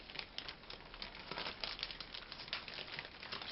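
Brioche ingredients are mixed inside a sturdy plastic bag, giving soft, continuous crinkling and rustling of plastic with small irregular bursts, faint and close, with no voices.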